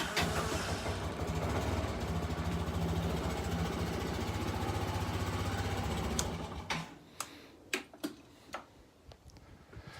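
A Kymco 250 Bet and Win scooter engine runs with a fast, even ticking idle for about six seconds, then shuts off, leaving a few sharp clicks and knocks; close and moderately loud, no talking.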